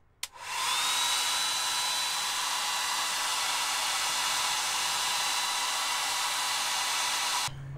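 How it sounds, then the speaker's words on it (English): A hair dryer running in an RV on a lithium battery switches on and blows steadily at full power with a loud, even whoosh, then cuts off abruptly near the end. "And next up we have the hairdryer."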